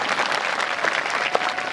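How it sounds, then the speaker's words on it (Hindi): A seated audience claps together on cue at a Hindi religious talk, a dense, steady burst of applause filling the room at close range for nearly two seconds, with no voices on top. "अगर लेते हैं तो एक बार ताली बजा दो,"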